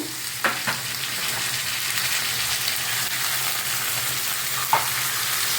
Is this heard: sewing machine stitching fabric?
no